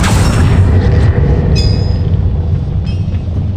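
A Bombarda spell blast in the video game Hogwarts Legacy: a loud, sustained booming explosion with heavy low rumble filling the whole moment, a few bright ringing tones flickering over it, no voices.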